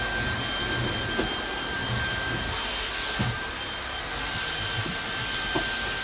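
Vacuum cleaner running steadily indoors, a continuous loud whooshing drone with a constant high whine, alone with a few faint knocks.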